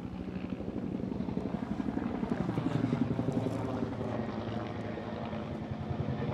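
A helicopter passes overhead with a steady, rhythmic rotor chop and engine drone that stays fairly constant throughout, at moderate distance.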